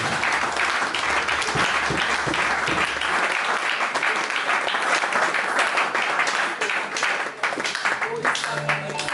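A church congregation applauds loudly and continuously, dense clapping filling the room throughout with cheering voices mixed in.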